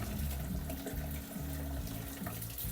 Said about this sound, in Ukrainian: І воно знизу виливається грязна вода